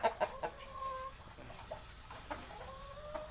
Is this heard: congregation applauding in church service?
no